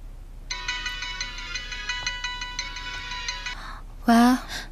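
A mobile phone ringtone chimes in a bright repeating melody for about three seconds, close and clear, then stops, and a voice speaks briefly right after.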